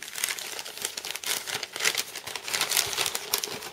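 Parcel packaging crinkles and rustles steadily as it is unwrapped to reveal a DVD, a dense, close crackling texture that continues without pause.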